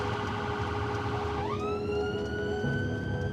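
A loud emergency siren wails steadily, then its pitch sweeps upward into a higher tone over continuous road noise.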